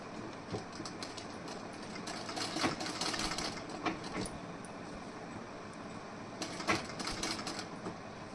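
A sewing machine stitches the back panel of a blouse, its needle chattering in quick, uneven bursts, fairly quiet and close, with no voices.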